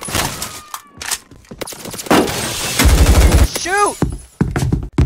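Bursts of gunfire in a Roblox shooter game, with rapid shots and heavier thumps clustered through the middle and a shout over the action, mixed with game effects.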